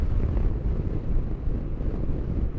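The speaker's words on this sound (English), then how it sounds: "Okay, listening to the wind." Steady, loud wind roar buffeting the microphone while riding a Zontes 310 M 300cc scooter, a dense low rumble without pause or speech.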